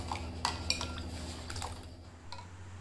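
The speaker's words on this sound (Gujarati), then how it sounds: "એટલે એને આપણે આ રીતે સતત હલાવતા જઈશું અને ઠંડુ પાડતા જઈશું." A spoon stirring a mango ice cream milk mixture in a pot, giving a few light metallic clinks and scrapes against the pot over a steady low hum, fairly close.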